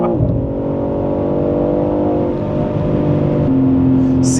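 A BMW M3 Touring CS under way, its engine droning steadily from inside the cabin with layered harmonic tones that rise slightly before a gear-like shift near the end, continuous and fairly loud.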